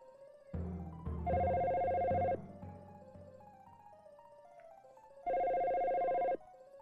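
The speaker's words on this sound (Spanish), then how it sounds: "el teléfono seguirá llamando automáticamente" An office telephone extension rings in the Dino Crisis video game, two long electronic warbling rings separated by a few seconds of quiet, clear and steady with no talking over them.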